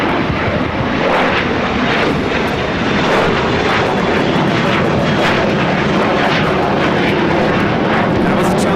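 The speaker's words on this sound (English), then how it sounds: "That was a Challenger 350 headed out to San Antonio." A Challenger 350 jet takes off from runway 25 right at LAX, its engines roaring loud and continuous throughout.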